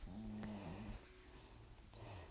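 A dog snoring in a room, low droning breaths that rise and fall in a slow rhythm, close and quiet, with no talking.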